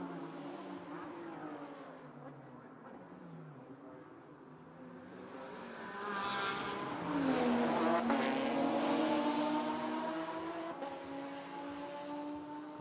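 A Speedy Motorsport Porsche GT4 race car drives past at Vila Real. Its engine note rises as it accelerates and shifts, growing from fairly distant to a louder, close pass before fading slightly.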